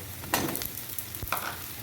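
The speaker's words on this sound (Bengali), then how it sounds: "ফুলকপিটাও গাজরের সঙ্গে একসাথে ভেজে নেব" Carrots and cauliflower fry together in mustard oil for chowmein, a close, crackling sizzle broken by two sharp stirring scrapes of the spatula, no voices.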